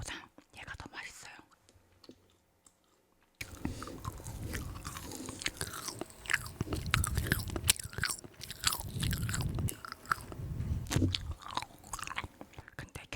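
Frozen jelly candies crunch and squish in close-up chewing, with soft whispering layered over the bites after a quiet opening.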